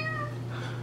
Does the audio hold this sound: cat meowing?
yes